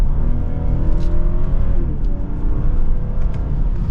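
A 2023 BMW 540i engine rumbles steadily up close, its tone rising and falling in brief blips while downshifting into a turn, with no talk over it.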